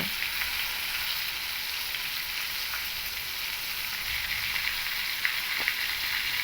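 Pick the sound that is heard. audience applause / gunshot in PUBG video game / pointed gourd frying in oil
pointed gourd frying in oil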